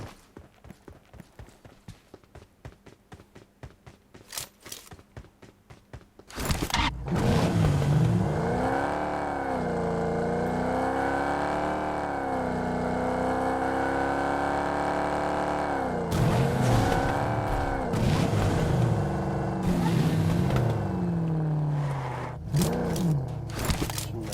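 A vehicle engine in a video game starts up and then drones steadily, its pitch rising and falling as it drives, loud and close, with no talking over it.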